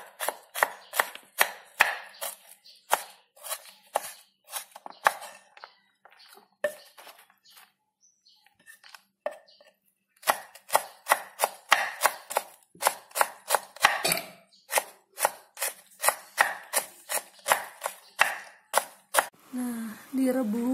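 A knife chops jackfruit into small pieces on a board in rapid, rhythmic close strikes, pausing briefly in the middle before resuming in a steady run, with faint bird chirps in the background.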